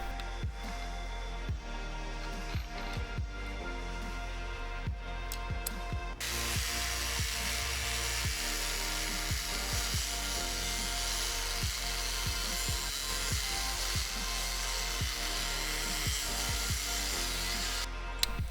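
An angle grinder's cutting disc slices scrap steel tabs in a harsh, continuous whine, louder and brighter after the first few seconds, with brief pauses and clicks near the start and end, heard close up without talk.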